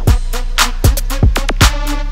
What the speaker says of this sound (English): I'll do a little slow down with the fade out.